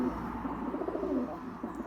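Pigeons in a loft coo softly and repeatedly, overlapping low throaty calls that run nearby throughout with a gentle background murmur.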